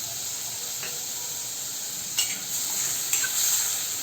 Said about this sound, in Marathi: आता यामध्ये अर्धी वाटी टोमॅटो घालून घेऊया